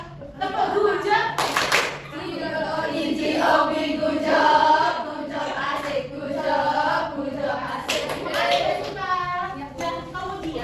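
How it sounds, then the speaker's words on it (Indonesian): Schoolchildren in a classroom clap together for a classmate, a dense burst of hand claps with rhythmic patterned stretches, mixed with children's voices and chatter throughout. "Kita kasih tepuk dulu untuk Mbak Siva."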